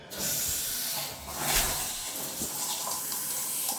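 A hissing spray of water from a Kohler Assert multifunction handshower runs continuously and close by, a steady rushing broadband hiss with slight surges.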